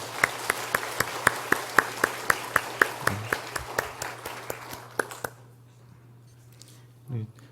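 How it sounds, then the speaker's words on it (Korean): A small church congregation clapping during a Sunday service in a steady, spaced rhythm for about five seconds, then stopping; quiet room tone follows with a brief low voice. "우리 큰 박수로 환영하겠습니다"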